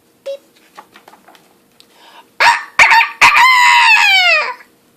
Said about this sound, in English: It was the loudest cock-a-doodle-doo Rooster had ever crowed.